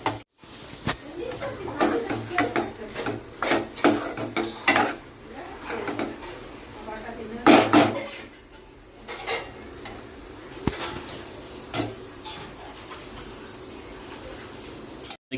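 Spoon clatters and scrapes against a pot while goat mutton is stirred, a series of metallic knocks over a low sizzle, ending with quieter cooking sounds; a voice talks at times.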